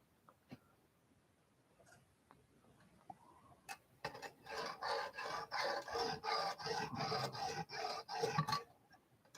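A knife blade being sharpened on a Lansky coarse diamond stone in a garage, with a rapid run of rhythmic rasping strokes, close and fairly loud, after a few quiet scattered clicks.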